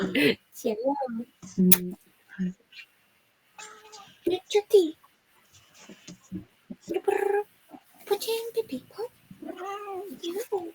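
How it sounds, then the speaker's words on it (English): A house cat meows several times in short, rising cries scattered between a person's close speech. "You can hear my cat meowing"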